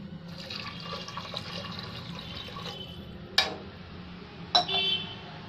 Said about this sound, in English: we are going to add in 2 glasses of water